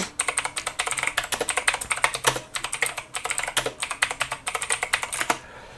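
Fingers type on a computer keyboard in quick, crisp clicking bursts. The keystrokes run close and clear with short pauses between runs, and no voice is heard.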